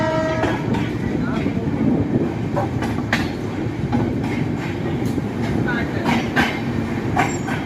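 An Indian express train runs past Buxar station in Bihar, heard from on board as a loud, continuous rumble with wheel clatter and brief squeals, and faint voices in the background.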